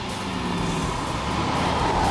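A Chevy sport truck with a limited slip differential and wide tires accelerates, its engine note rising steadily and growing louder over two seconds with no talking.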